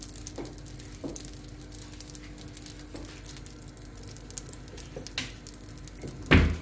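Butter browning in a pan for salmon in black butter, giving a steady soft sizzle and crackle throughout, with a few light utensil clicks and a louder clatter near the end.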